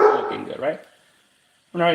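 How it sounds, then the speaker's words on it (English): A pet dog gives a short burst of barking at the very end, loud and close, after someone speaks briefly. "He likes to bark"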